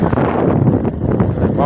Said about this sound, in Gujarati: પવન ફૂલ આવે